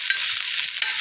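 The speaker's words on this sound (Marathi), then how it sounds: "एक कांदा, टोमॅटो अर्धा, आलं आणि लसूण हे व्यवस्थित तव्यावर टाकून व्यवस्थित भाजून घेणे" Onion, tomato, ginger and garlic roasting on a hot griddle give a steady, close hiss of sizzling with a few soft crackles, running evenly throughout with no voices.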